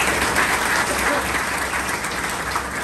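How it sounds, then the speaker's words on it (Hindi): A large audience claps steadily and loudly for an orientation and certificate distribution class, a dense, even wash of applause with no pauses. "इनके लिए जोरदार क्लैपिंग दीजिएगा।"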